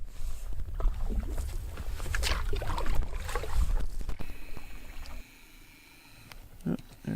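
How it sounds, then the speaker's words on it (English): Canoe paddle strokes and water swirling along the hull while paddling through lake narrows, steady and close for several seconds and then quieter, with no talking. "Beautiful paddling through here."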